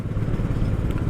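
A Honda H'ness CB350 motorcycle engine chugs steadily at low revs in fifth gear on a city ride, a dense continuous thrum with no talk over it.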